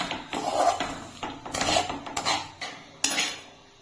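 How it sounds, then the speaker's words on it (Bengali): Melting sugar for caramel is stirred in a metal pan, giving several distinct scraping strokes and clinks of utensil against pan, close and fairly loud, then a final sharp knock. "এখন আমি এটাকে নাড়িয়ে নেব পুরো চিনিটাকে গালিয়ে নিতে হবে মানে ক্যারামেল তৈরি করে নিতে হবে"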